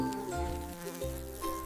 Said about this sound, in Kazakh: Дұрыс, бұл инелік.